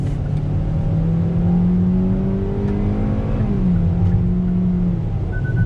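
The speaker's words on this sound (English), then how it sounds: "Getting on throttle." A 2020 Kia Forte GT-Line with a CVT simulating shifts revs up smoothly and steadily, its pitch climbing and then easing off, close and loud with no talking.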